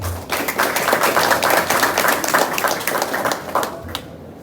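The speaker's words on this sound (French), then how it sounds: "Et je demanderai à mon public de bien vouloir saluer Madame la directrice par un chaud applaudissement." An audience at an inauguration ceremony for the Haitian State Lottery applauds its director, a warm burst of dense, rapid clapping from many hands that holds steady, then tapers and dies away near the end.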